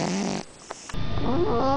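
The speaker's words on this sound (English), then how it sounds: "Kitten, are you snoring?" A sleeping cat snores with raspy, wheezy breaths, one long snore, a quiet pause, then another grumbling snore, close and fairly loud.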